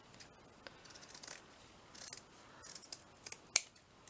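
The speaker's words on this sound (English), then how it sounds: "I'm going to cut that bit off because that's got sort of like a sewn edge on it." Scissors snip through fabric to cut off a sewn edge, a series of quiet, irregular crisp cuts with one sharper snip near the end.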